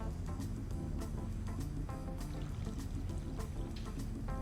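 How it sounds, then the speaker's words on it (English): Water pours steadily into a small pot of potatoes in a chef's kitchen, a continuous close rushing splash filling the whole moment with no talk. "Add the water."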